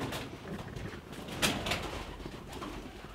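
Pigeons cooing inside an abandoned factory, soft throaty coos and a brief flutter-like burst amid reverberant room noise, close by and fairly loud, with no speech.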